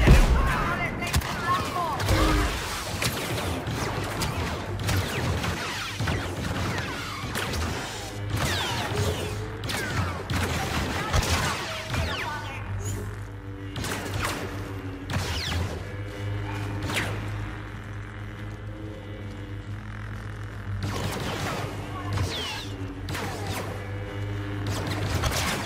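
Blaster gunfire in the video game Star Wars Battlefront 2 comes as repeated sharp shots and clattering bursts over a low droning game soundtrack, loud and close, with in-game voices heard at times.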